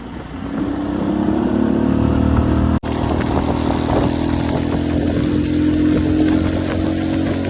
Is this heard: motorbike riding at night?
yes